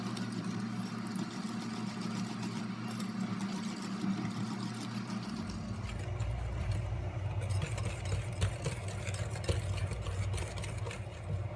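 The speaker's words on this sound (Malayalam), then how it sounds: "എന്നിട്ട് കുറേശ്ശെയായി ഇട്ട് കൊടുത്ത് നല്ല പോലെ ബീറ്റ് ചെയ്തെടുക്കാം. 2 മിനിറ്റ് വരെ കൈയെടുക്കാതെ ബീറ്റ് ചെയ്തെടുക്കണം." Eggs and sugar beaten for a stovetop sponge cake batter, giving a steady motorized whir with a low hum that deepens and grows fuller partway through, running continuously with no talk.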